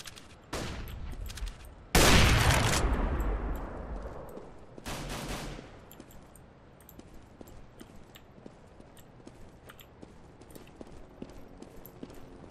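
Gunfire in the video game CS:GO comes as rapid bursts, with one loud sustained volley that fades into a ringing tail, followed by scattered lighter shots and clicks.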